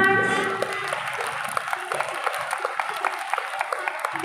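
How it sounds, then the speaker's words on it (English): Children and an audience at a school prize distribution ceremony clap in a moderate round of applause. A fading voice is heard at the start, and distinct individual claps stand out over the crowd. "All of you clap your hands."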